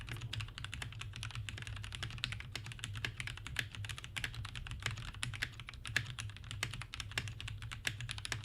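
Rapid, continuous clacking of keys on a GK61 mechanical keyboard with lubed stabilizers and switches, evenly paced typing at close range with no voices.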